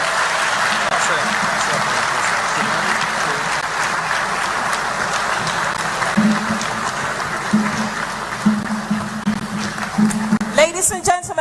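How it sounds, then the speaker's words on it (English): Steady crowd applause from a large town hall audience in London, sustained and fairly loud throughout, with a few louder bursts and some voices near the end. "a round of applause for His Excellency John Dramani Mahama"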